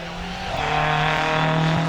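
Ford Escort hillclimb car with a 2-litre Pinto engine braking hard into a bend at Longleat, a loud, steady engine drone with a rough growl and a hint of tyre scrub, close and without voices.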